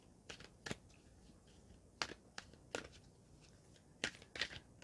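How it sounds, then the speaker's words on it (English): Tarot cards being shuffled to draw a card, a few quiet, sharp papery flicks and snaps spread over a few seconds, close by and faint in a still room, with no talking. "let's get another card out the mix for you"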